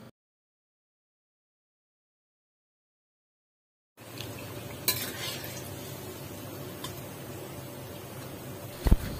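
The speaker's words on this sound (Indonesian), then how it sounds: "Kita goreng ya, 1 sendok per sendok." Batter for corn fritters spoons into hot oil in a pan and sizzles, a steady, close crackling hiss with a few sharp clicks of a utensil. It starts abruptly after several seconds of silence.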